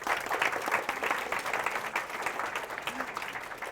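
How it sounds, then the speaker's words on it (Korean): Audience applause at a Korean developer conference talk on SwiftUI and UIKit, steady dense clapping from a crowd that holds evenly throughout and stays fairly close. "지금까지 첫 떨리는 발표를 해주신 예원님과 저에게 박수 한번 부탁드립니다."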